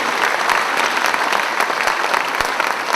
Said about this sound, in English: Can we give Mrs. Stover and our percussionists a round of applause?